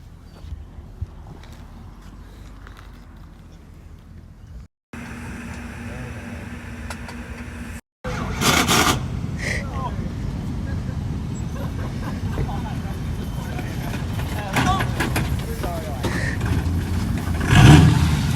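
A teen's pickup truck with gas and oil mixed idles and revs, rough and loud, as the engine rises in bursts. Outdoor noise and a dog's barks mix in, and people talk over it.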